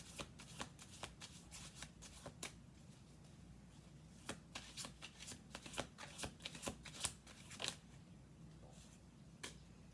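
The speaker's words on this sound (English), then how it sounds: "We're going to do 2 more shuffles here." Tarot cards being shuffled up close, a run of crisp riffles and sharp flicks in uneven bursts against a quiet background.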